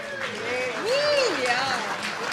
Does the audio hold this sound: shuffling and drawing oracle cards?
no